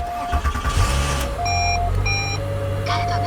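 A Volkswagen Golf 3 VR6 engine cranks and catches close by, settling into a low, steady idle while electronic warning chimes beep in short repeated tones over it.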